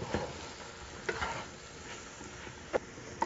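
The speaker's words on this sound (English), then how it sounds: "I'm going to add about 3/4 of a cup of flour. Stir this up, get a good mix going with it." Flour being stirred into a pot for blue crab chowder makes faint scraping and patting sounds, with a few sharper spoon knocks against the pot amid a quiet sizzle.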